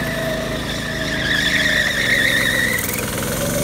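A 1960s go-kart on dry-rotted tires with very high gearing drifts, its small engine buzzing steadily up close while the tires squeal in long rising and falling tones throughout.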